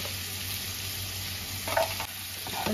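Steady frying sizzle of vegetables in a pan, with a few soft scraping stirs near the end.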